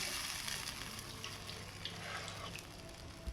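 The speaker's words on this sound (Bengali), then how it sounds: "তো আমি সয়া চাপটা ঢেলে দিচ্ছি ঘি লেগে আছে" Soya chaap goes into a pan coated with hot ghee and fries with a soft, steady sizzle and faint stirring, quiet and close, with no one speaking.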